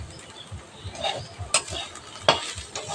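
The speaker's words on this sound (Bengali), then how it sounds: "এরকম করে 2-একবার 5 মিনিট ছাড়া খুলবো আর কুঁদরিগুলো নেড়ে দেবো।" Sliced ivy gourd (kundri) fries in a pan while a spatula stirs it, with soft scraping strokes, a gentle sizzle and two sharper metallic clinks against the pan, and no voices.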